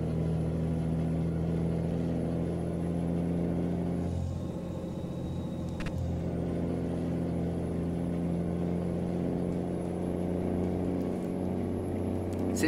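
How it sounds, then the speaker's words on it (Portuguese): The engine brake of a Mercedes-Benz Atego 2425 box truck in Euro Truck Simulator 2 produces a steady, droning low rumble that holds without pause, with no talk over it. "Tá barulho louco, ó. Barulho do freio motor."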